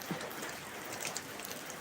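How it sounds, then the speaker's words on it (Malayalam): Soft, steady patter of a sudden rain shower after sunshine, a faint even hiss with scattered droplets, heard alone. "ഇപ്പം മഴ ഇത്രയും നേരം നല്ല വെയിലായിരുന്നു ഇപ്പം അതാ മഴ"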